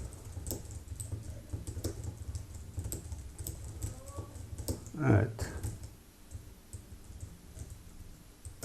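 Keys on a computer keyboard clatter in quick, uneven bursts as code for a 3D axis-drawing method is typed, fairly faint and close, with one brief louder knock midway.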